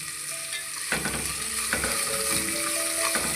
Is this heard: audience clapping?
no